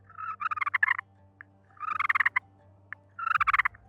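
A turkey purr made on a slate call by a hunter, three bursts of soft rapid rolling chatter separated by short pauses, close and clear with no talking.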